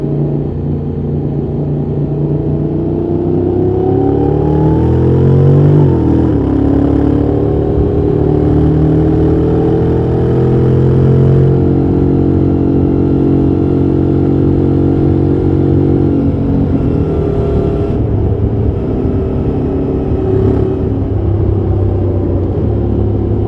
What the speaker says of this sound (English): This is how the acceleration for the new 2021 Honda NC750X is.